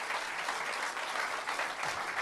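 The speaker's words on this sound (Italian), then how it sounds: "possiamo fare tranquillamente un applauso" Audience at a public political meeting in Castelfranco gives sustained, even applause, a dense steady wash of many hands clapping throughout with no talk over it.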